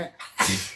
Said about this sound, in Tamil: இந்த தும்மல் கூட வருது.